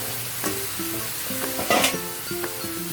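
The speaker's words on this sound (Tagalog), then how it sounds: "Then, hahaluin po natin siya mga katropa." Bony pork pieces for caldereta sizzle loudly in a pan, a continuous frying hiss marked by several scraping and clinking stirs of a utensil, close and without talking.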